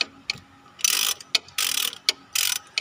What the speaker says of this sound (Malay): So kita longgarkan jugalah. Okay, saya guna soket lah, saiz 12.